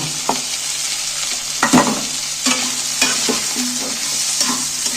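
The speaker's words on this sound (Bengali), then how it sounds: "এইগুলোকে একটু নাড়তে থাকবো" Chopped cabbage, onion and green chili are stirred in a frying pan, with a steady sizzle of frying underneath and repeated scraping strokes of the spatula, close and fairly loud.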